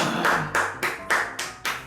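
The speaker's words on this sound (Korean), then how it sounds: "박수를 안출 수가 없네" Hand clapping indoors, six or seven distinct claps in a quick steady rhythm, fairly close and moderate in level, with no talk over them.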